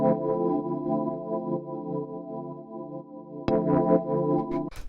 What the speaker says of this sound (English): So the way this is made is using this sort of like E-piano Rhodes sort of sound.